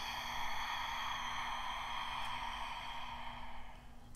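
A long, steady, airy exhale during a dantien breathing practice, close and fairly soft, fading out near the end over a faint background hum.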